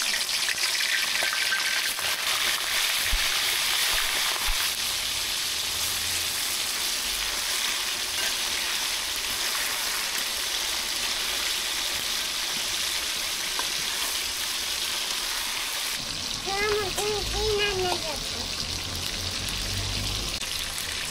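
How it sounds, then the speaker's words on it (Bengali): Chicken pieces for biryani fry in oil left from browning onions, a dense steady crackling sizzle running throughout, with a brief tonal squeal of metal on the pan near the end. "এখন আমি এই তেলে চিকেনগুলো ভেজে নেব।"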